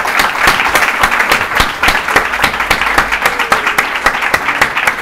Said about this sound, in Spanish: por favor un aplauso para Alex.